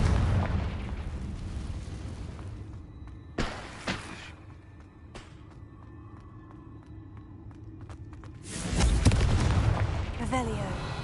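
A Confringo blasting spell explodes in a video game, a loud booming burst near the start, sharp impacts around three to five seconds, then another heavy roaring blast near the end over a low rumbling background.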